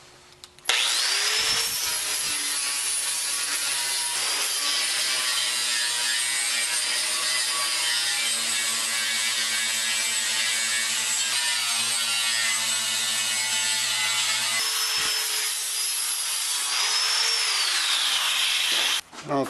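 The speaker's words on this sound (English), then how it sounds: "buff them up with the old flapper sanding wheel" A flap disc sanding wheel grinds welded metal bolt heads on a backyard steel firepit, a loud sustained rasping whine that runs nearly unbroken for about seventeen seconds and then cuts off.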